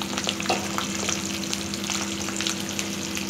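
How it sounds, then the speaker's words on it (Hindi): Garlic fries in hot oil with spices for a garlic mango pickle, giving a loud, continuous sizzle with stirring scrapes throughout. "अब ये गार्लिक इसमें हम डाल देंगे"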